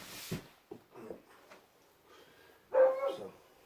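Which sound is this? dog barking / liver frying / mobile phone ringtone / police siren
dog barking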